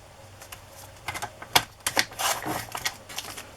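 Scissors or a paper trimmer cutting scrap strips of coffee-dyed paper to 7.5 inches, heard as a series of close, crisp snips and rustles in irregular bursts with no talking.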